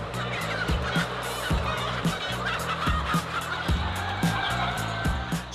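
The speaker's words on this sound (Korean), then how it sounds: "수만 마리의 닭이 모여 있는 축사." White silkie ogolgye chickens fill a large coop housing tens of thousands of birds with dense, continuous honking clucks and squawks, many overlapping calls close by.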